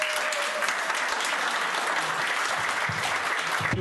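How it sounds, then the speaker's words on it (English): Audience at a business festival in Ajax gives a round of applause, a continuous, moderately loud patter of many people clapping that stays even from start to finish, with faint low bumps underneath. "so we can also put a round of applause together for Startup Canada."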